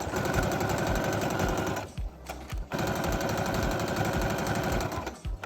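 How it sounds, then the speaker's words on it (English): A sewing machine stitches a doubled-over shirt hem in rapid, even bursts, stopping briefly for a moment and then running on again, close and alone. "Then I folded the shirt hem over twice and sewed it in place."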